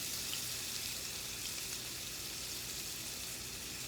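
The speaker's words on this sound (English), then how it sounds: "But you want to flip the salmon" A salmon fillet sizzling in a Teflon pan just after being flipped, a steady, faint hiss of frying that stays level throughout with no voices.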